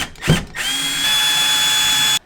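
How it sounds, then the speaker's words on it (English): Power drill backing screws out of a thermostat base mounted on a wall, a brief initial whir and then a steady close, loud high-pitched drilling whine that cuts off abruptly. "There's typically 2 or 3 screws holding the thermostat base to the wall. Let's go ahead and remove those screws."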